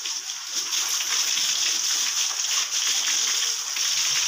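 Water splashed from a hose or bucket onto pigeons to bathe them, a steady broadband splashing and spattering hiss running continuously for several seconds, fairly close and without talk.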